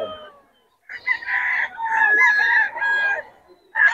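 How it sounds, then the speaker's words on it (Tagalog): A large rooster crows loudly nearby in a long, strained call with several ragged segments, followed by the start of another crow, at a busy market in Bocaue. "Ang lalaki ng manok ni Boss Batang."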